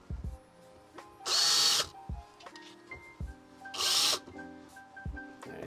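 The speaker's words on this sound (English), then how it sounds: "I'm gonna put 2 screws back in so I can hold it by the screws on the back." A power drill twice drives screws into a wooden basketball award in a woodworking shop, two loud, close bursts of about a second each, separated by quieter handling knocks and clatter.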